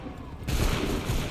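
A musket volley fires in Assassin's Creed III Remastered, a sudden loud burst of massed gunfire that rolls on as a dense roar for nearly a second.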